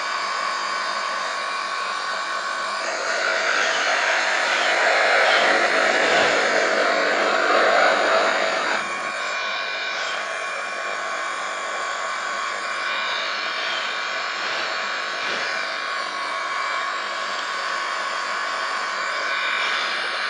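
An Airbus A330-200 in Microsoft Flight Simulator gives a steady broadband engine roar in flight, swelling louder for a few seconds before settling to an even drone with no talking.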